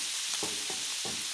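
Beans sizzling on a hot griddle, a constant crackling hiss with a few soft scraping stirs, close and moderately quiet, no talking.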